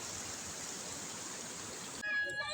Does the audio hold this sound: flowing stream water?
yes